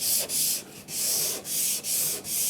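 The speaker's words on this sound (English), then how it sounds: "you can give that a very, very light rub, but not too much" Sandpaper lightly rubbed over painted MDF, five quick back-and-forth strokes in a steady rhythm, close and crisp with brief pauses between passes.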